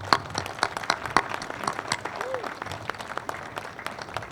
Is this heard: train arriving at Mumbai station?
no